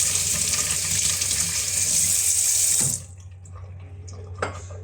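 Tap water runs steadily into a sink while fish is washed for a steamed fish dish, a loud close gush that stops abruptly near the end and is followed by faint drips and handling sounds.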